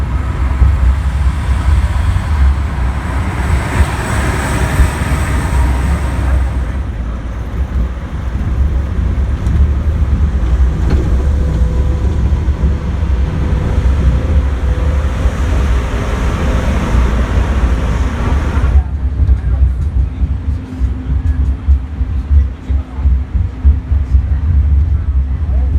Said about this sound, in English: Now here we have an engine coming down.